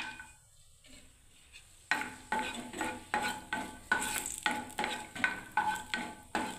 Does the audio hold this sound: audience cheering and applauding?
no